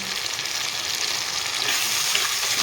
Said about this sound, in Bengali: ভালোভাবে নাড়িয়ে চেড়ে মশলাটাকে সুন্দর করে ভেজে নেব